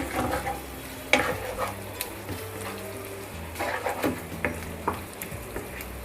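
Yogurt and spices with turmeric powder stirred and sizzling in a pan for a dhaba-style sev tamatar sabzi, with scattered clinks and scrapes of a spoon over a steady low fry, moderately quiet and close.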